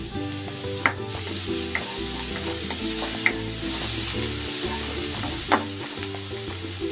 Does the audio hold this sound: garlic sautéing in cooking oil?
yes